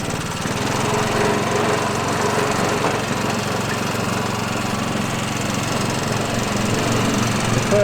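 A pull-start lawn mower runs steadily at full throttle during the first mow of newly seeded Kentucky bluegrass, its close, loud, continuous engine drone unchanging and heard with no talking.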